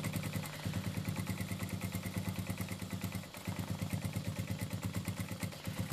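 A sewing machine stitches along fabric marked with pounce-pad chalk, a fast steady mechanical chatter running loud and close throughout, breaking briefly about halfway before the stitching resumes.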